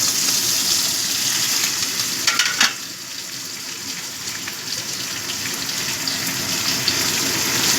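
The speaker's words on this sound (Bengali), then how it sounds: "কাঁচা লঙ্কাগুলো একটু ভেজে নেব। ঢাকা দিয়ে দিলাম, নাতে ছিটকে আসছে।" Green chillies fry in oil in a lid-covered pan for a vegetarian bottle gourd curry. A dense, continuous sizzle runs throughout, with a short clatter near the middle and no voices.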